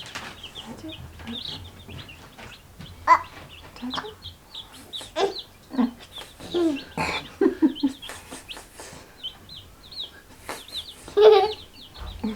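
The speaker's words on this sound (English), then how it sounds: "What sound does the chick say? Say cheep cheep." Baby chicks cheep in short, high bursts that recur throughout, some close and fairly loud, others fainter, while a child and an adult talk softly nearby.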